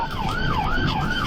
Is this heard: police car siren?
yes